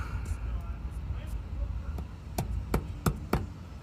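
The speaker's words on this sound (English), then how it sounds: "a metal hammer is probably not the way to get it going" Several sharp metallic strikes of a metal hammer on a car transmission part during a transmission pan and filter service, four hard blows spaced closely near the end, following a stretch of low shop noise.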